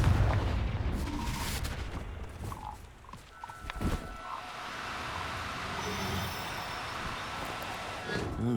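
A Confringo fire spell blasts in the video game Hogwarts Legacy, with a heavy rumbling boom up front, crackling debris, then a lingering low roar and scattered combat noise.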